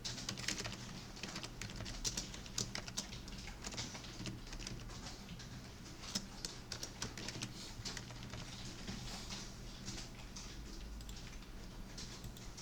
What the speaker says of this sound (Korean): 이렇게 좀 쭉 쓰고 엔터 누르고 다른 것도 써보시고